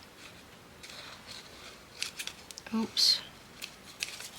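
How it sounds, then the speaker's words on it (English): Scissors snip stray bits off printed paper for a no-sew binding journal. A handful of crisp, close cuts come in quick succession, and a brief spoken exclamation breaks in midway. "Let's just cut these little bits off."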